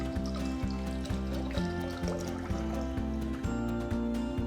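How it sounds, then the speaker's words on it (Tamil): Water pours steadily into a saucepan in a home kitchen, a soft trickling fill heard over rhythmic background music. "ஒரு சாஸ்பேனில் தேவையான தண்ணியை ஊற்றி தண்ணியை சுட வைங்க."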